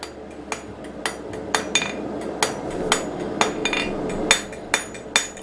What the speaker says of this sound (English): We're not doing half on or half off, we're just flattening the material out with a taper to it.